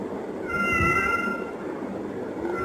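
A stray cat meows in a few drawn-out, wavering cries, fairly close, with steady background noise around it and no talking.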